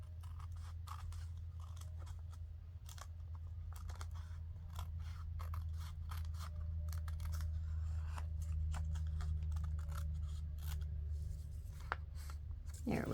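Scissors trimming fabric scraps in a sewing project, making a steady series of quick, close snipping clicks over a constant low hum, with no speech.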